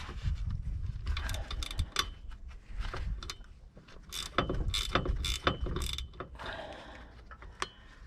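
A ratchet wrench clicks in short bursts while a drive shaft comes off a vehicle, with metallic clanks during the universal joint work.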